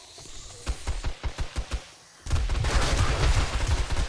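Rapid bursts of video game gunfire in 7 Days to Die, a string of separate close shots followed by sustained dense automatic fire and impacts, loud and continuous to the end.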